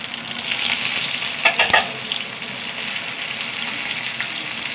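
Dried red chillies and curry leaves crackle and hiss loudly in hot oil, with a sharp burst of popping and spattering partway through before the steady frying sizzle settles again.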